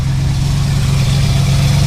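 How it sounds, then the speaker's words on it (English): A 1984 Dodge Ram engine cranking without the fuel pump connected, a loud continuous low droning whir with a steady pulsing rhythm throughout, close up and with no talking. "Crank it again."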